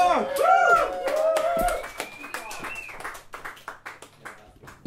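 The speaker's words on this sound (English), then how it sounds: "Ladies and gentlemen, a massive round of applause for the incredible Mr." A pub crowd at an open mic night claps and cheers for performer Michael Hancock; the applause is busy and close at first, then thins into scattered claps as a voice speaks over it.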